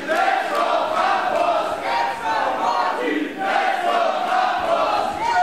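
A wrestling crowd at an Unlimited Wrestling main event between Krampus and Marty Scurll is split, loud rhythmic chanting and shouting swelling and dipping in waves with mixed cheers and boos.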